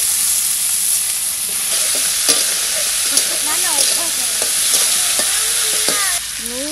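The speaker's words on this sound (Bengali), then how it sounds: "কড়াইতে তেল দিয়ে দেবো" Oil sizzles and spatters steadily in a kadai wok throughout, with a spoon stirring and clinking against the metal and a few faint squeaks over the constant frying hiss.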